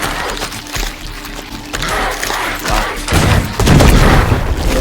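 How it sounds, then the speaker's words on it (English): A rocket launcher blast in the turn-based game Wasteland 3 booms loudly, rumbling and crackling, with a second, heavier surge of explosive debris rolling in near the end. "let's try out engaging with a rocket launcher at this particular enemy"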